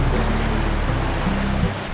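Sea waves wash onto the shore at Siruma Pink Beach in Camarines Sur, a close, steady rushing surf with a low rumbling engine hum underneath.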